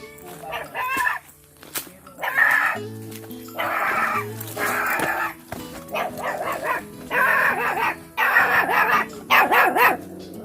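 Dogs bark repeatedly in bursts, close and loud, several animals overlapping, with short pauses between volleys.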